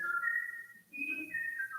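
A person whistles a tune in a short, clear melodic phrase, heard alone with no talking.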